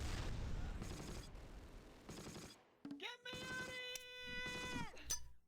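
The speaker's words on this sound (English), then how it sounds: "Okay, some incoming grenades." Incoming grenades burst in the World War II strategy game Close Combat: The Longest Day: a series of sharp, rattling blasts, with a sustained tonal whine cutting through midway.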